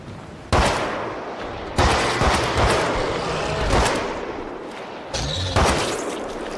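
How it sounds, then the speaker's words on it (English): Heavy gunfire from a .357 revolver and an AK rifle in State of Decay 3, loud broadband blasts in several bursts over about six seconds, each followed by a ringing tail, with no talk. "I was just letting this 357 and the AK rip"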